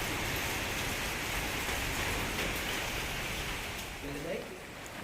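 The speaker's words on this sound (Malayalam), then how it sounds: "മഴ ഇപ്പോഴാണെന്ന് ഒതുങ്ങിയിട്ടൊന്നുമില്ല." Steady rain keeps falling during a monsoon downpour that has left the road waterlogged, a dense even hiss that fills the whole scene at a constant level and carries on without a break.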